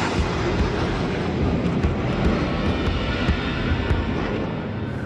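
A Royal Australian Air Force F-111 jet on low approach to a runway, heard as a steady, loud, broadband roar with wind buffeting the microphone, sustained throughout without any voices.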